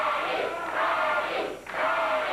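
A wrestling arena crowd at a 1989 CWA Memphis mask-versus-time match roars and cheers for Freddie in loud, surging waves that briefly dip before swelling again.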